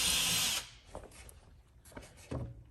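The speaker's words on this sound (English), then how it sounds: "pre-drill the hole in your other stud" A power drill pre-drills a hole in a wall stud while a floating shelf bracket is being installed. It gives one loud, close burst of whirring for about half a second, then drops to quiet handling clicks and taps.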